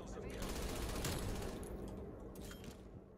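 PPSh submachine gun fired in Call of Duty Vanguard, a sustained rapid burst of automatic fire over the first seconds, then scattered distant shots and game ambience, loud and dense.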